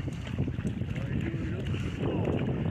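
Rowboat being rowed by a team in a race on open water, a continuous rush of water and wind noise with irregular splashing, while voices talk and shout over it.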